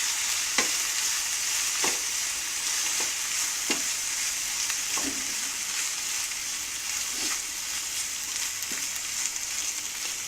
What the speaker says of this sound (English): After mixing your boiled pasta, you saute it for half a second